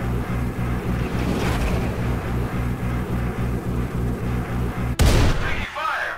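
Spaceship weapons fire in Star Citizen's Vanduul Swarm mode from a Freelancer, a rapid, steady stream of booming shots over a droning engine, ending in a sharp burst and a sweeping whoosh.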